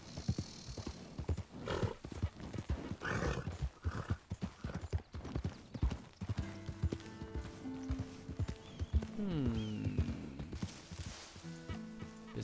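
In Red Dead Redemption II, a zebra's hooves clip-clop in a quick, steady rhythm on open ground, close and clear, with a whinny and tonal game music rising in the background.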